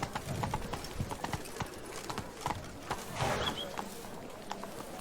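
Horse hooves trotting in The Witcher 3: Blood and Wine, a quick rhythmic clip-clop close by that holds steady through the clip, with faint ambient game sound behind it.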